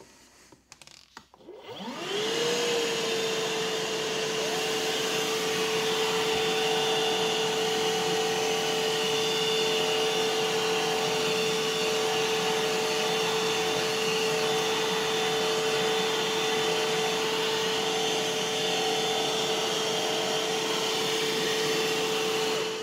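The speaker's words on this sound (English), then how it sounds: "now we're gonna use the M12 powered brush on this side" A Milwaukee M12 cordless vacuum with a powered brush head whirs to life and runs steadily on carpet, a loud, even motor hum with a high whine and no speech.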